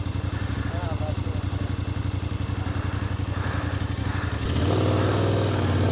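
A motorcycle rides along a Berlin street on a public holiday, its engine a steady, close, buzzing drone that grows louder and heavier near the end as it passes.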